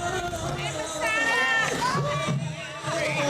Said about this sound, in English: what you're hearing is the Negro National Anthem